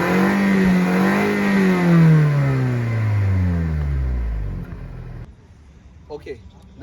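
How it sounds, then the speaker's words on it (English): A 2020 Toyota Camry XSE with a 2.5-liter straight-four revs close by, its exhaust note climbing and then sweeping down through a falling drone before cutting off into quiet. "we're going to play a sound of the exhaust note for you"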